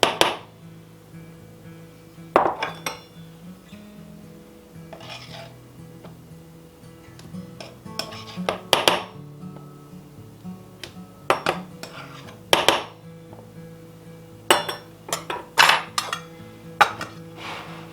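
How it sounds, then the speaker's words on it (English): All-purpose flour is measured out into a small bowl, heard as scattered sharp clinks and taps of a measuring cup and utensils against the dish, close by and with no talking. "I have a small bowl here, and I'm going to go ahead and measure out my dry ingredients"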